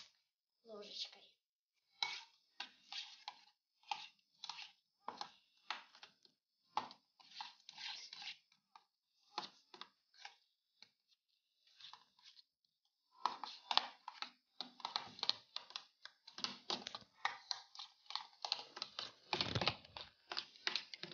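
A spoon stirring fried potatoes with mushrooms and a packet of seasoning gives quick, light scraping clicks and taps in an irregular rhythm, close and fairly quiet, growing busier toward the end.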